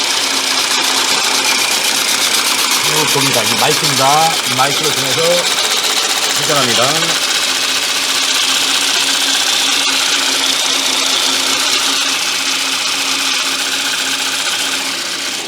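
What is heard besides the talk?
car engine running up close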